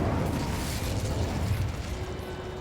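An explosive fire spell goes off in the wizarding game Hogwarts Legacy, a dense, rumbling blast that holds steady and loud for a few seconds with no talking.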